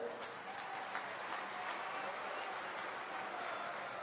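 A crowd at a political rally held by a state chief minister claps. The applause is faint and distant, a continuous soft patter with a few sharper individual claps standing out.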